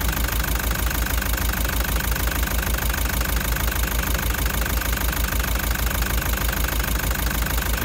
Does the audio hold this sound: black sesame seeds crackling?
no